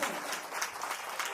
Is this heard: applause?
yes